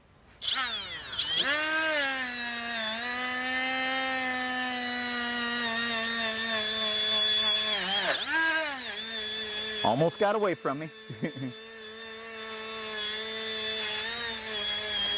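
A new Milwaukee M12 die grinder runs at a loud, steady high-pitched whine that sags and recovers several times as it bogs under pressure against the work. Someone speaks briefly over the motor.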